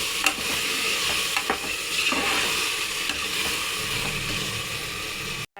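Ground masala paste for mushroom pulao frying steadily in a pan, a continuous broad sizzle with occasional stirring scrapes and clicks, close and fairly loud, no voices.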